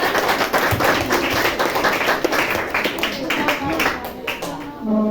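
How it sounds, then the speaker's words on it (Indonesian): Students and teachers applaud after a group's presentation at a school teaching-practice session, a dense run of clapping that fades toward the end, with voices mixed into it. "berikan tepuk tangan"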